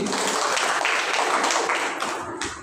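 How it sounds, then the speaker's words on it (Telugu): A church congregation at Sunday worship clapping loudly together, a dense burst of applause that thins out slightly toward the end. "గట్టిగా చప్పట్లు కొడతామండి."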